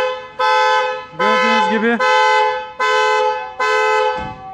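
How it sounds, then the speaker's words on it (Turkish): A Volkswagen Polo 6R's alarm blares its car horn in five long, loud honks with short gaps, a warning pattern; someone speaks briefly between blasts. "araç korna ve dörtlerle uyarı veriyor."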